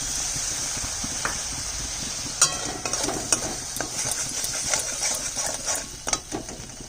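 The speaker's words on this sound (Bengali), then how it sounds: "মশলার গন্ধটা যতক্ষণ কাঁচা থাকবে তত সময় ভেজে নেব" Spice paste with turmeric and a little water frying in a pan, a continuous bright hiss of sizzling with scattered spatula scrapes and pops, close and steady.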